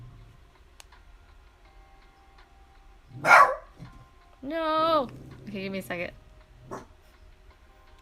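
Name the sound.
dog growling and barking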